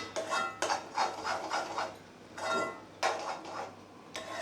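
Wheat rava kesari with melting jaggery being stirred in a pan, a close, repeated scraping and rubbing of spoon against metal in uneven strokes with brief pauses.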